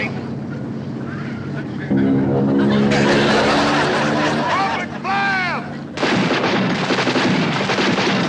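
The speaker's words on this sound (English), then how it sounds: "That's a boat down there firing at us." Heavy gunfire from a boat booms amid engine roar and swooping whistles, loud and chaotic, with voices breaking in between the blasts.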